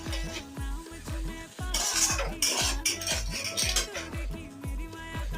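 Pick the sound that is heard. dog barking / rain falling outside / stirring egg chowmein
stirring egg chowmein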